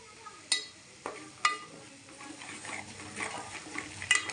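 Spatula scrapes and clinks against a pan as spiced vegetables for pav bhaji are stirred and sautéed with salt, several sharp metallic taps over a soft, steady sizzle, close and fairly quiet.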